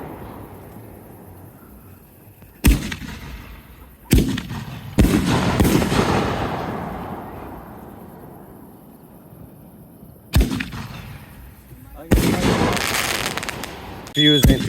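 Shots from a Lambeau Leap canister shell firework go off outdoors: several sharp, loud launch thumps and bursts, each trailing into a long crackling rumble, spaced irregularly over the stretch with occasional voices in between.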